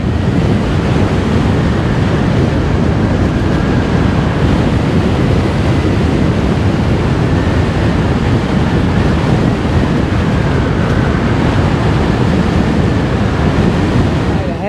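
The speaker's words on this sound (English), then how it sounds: "Getting a lot of resistance from this wind" Strong wind roars steadily across the microphone during an electric unicycle ride on a Gotway MS Pro, a dense, continuous buffeting rush that stays loud and unbroken throughout with no talk.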